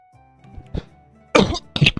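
Two harsh, close coughs burst out back to back near the end, preceded by a softer throat sound over quiet Civilization IV background music.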